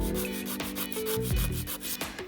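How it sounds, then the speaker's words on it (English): A nail file rasps across an artificial nail tip in quick, rhythmic back-and-forth strokes, close and fairly loud, with no talking. "And then I start filing like that."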